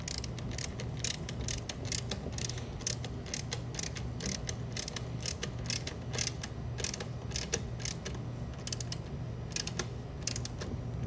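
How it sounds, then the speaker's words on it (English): Stainless steel 4 x 40 membrane housing being tightened down by hand: quiet, rapid ratcheting clicks and creaks repeat steadily over a low background hum. "Tighten it down about as tight as we can."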